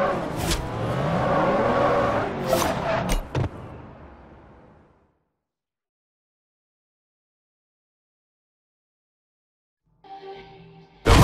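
A McLaren P1 in Forza Horizon 2 drives hard with engine noise and tire skids for a few seconds, then goes silent before a brief loud burst returns at the end.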